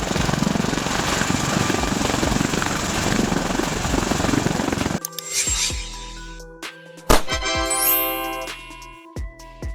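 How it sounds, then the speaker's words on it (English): A tiltrotor aircraft that combines helicopter-style vertical lift with fixed-wing forward flight thrums loudly with rotor noise for about five seconds, then gives way to shorter, separate mechanical and whining tones. "An aircraft that combines the vertical lift capability of a helicopter with the speed and range of a fixed-wing aircraft."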